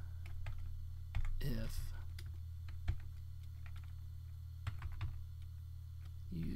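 Light, irregular keystrokes on a computer keyboard while code is typed, close and soft over a steady low hum, with a brief spoken word and a few quiet vocal sounds.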